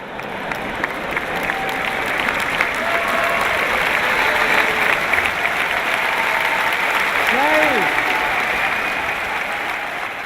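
An audience applauds at a motivational talk, with dense, steady clapping from a large crowd that holds for the full stretch without dropping off.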